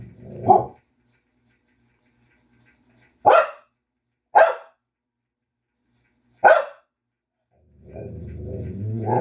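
A female dog barks four times in separate bursts spaced a second or two apart, followed by a rising rustling or shuffling noise at the end.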